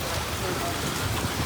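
Steady rain falling in Langkawi on a morning of on-and-off showers, a dense, even hiss of drops close by with no breaks.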